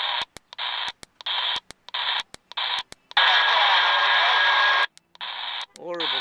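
Mobile CB radio, a President Randy2, scanning channels: harsh bursts of static broken by abrupt clicks and short silences, then a long steady hiss and a warbling tone as it settles, loud and close.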